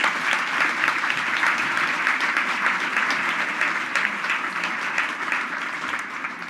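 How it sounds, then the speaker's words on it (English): Sustained, loud applause from an audience at a philanthropy awards ceremony, dense clapping holding steady throughout and tapering slightly near the end, with no speech over it. "So please give another round of applause to everybody."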